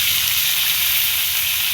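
Taro pieces go into hot oil with cumin and green chilli, giving a loud, continuous, even sizzle with no voices over it.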